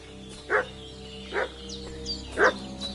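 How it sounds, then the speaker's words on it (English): A dog barks three times at a distance, single spaced woofs roughly a second apart over a quiet steady background hum, with no talking. "What's that dog making such a fuss about?"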